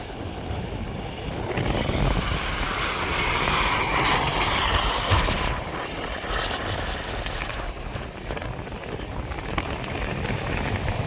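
Floodwater released from the KRS dam surges down the Kaveri river after heavy rain, a loud unbroken roar of rushing water with wind buffeting the microphone throughout.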